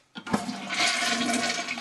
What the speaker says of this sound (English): as for flushing pills down the toilet, a definite no no